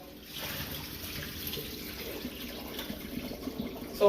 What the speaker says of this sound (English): I'm just pouring the water off.